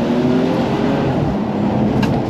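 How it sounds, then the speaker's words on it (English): A BMW M235i's engine revs hard after a downshift to second gear, a steady loud roar from inside the car across a brief moment, with no speech. "Downshifted to second again."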